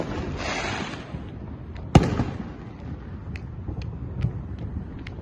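A Fourth of July firework explodes in Los Angeles with one sharp, loud crack, followed by a scatter of fainter, distant pops and crackles over a low outdoor rumble.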